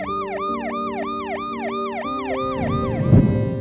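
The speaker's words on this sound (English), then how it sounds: "hundreds of protesters stepped aside to let an ambulance through" Ambulance siren wailing in a steady repeating rise-and-fall cycle as it passes protesters in a Paris street, loud and continuous with a burst of crowd noise near the end.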